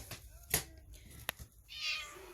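A pet cat meows twice at close range in a home kitchen near its food dish, each call short and clear, with light clatter and a brief sharp tap between them.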